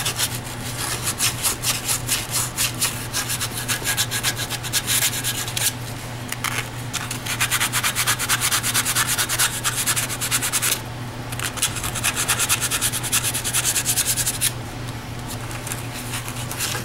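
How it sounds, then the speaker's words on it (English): Metal suspension strut and ball joint parts for a Mercury are deburred with a steady, loud abrasive rubbing and scraping that runs continuously, with brief dips in intensity. "So now I'm just cleaning up any burrs or anything."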